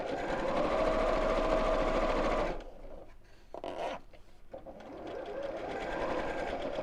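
A sewing machine top-stitches a fabric wallet, running in a loud, continuous, even mechanical whir, then pausing briefly with some rustling and handling before stitching again more softly.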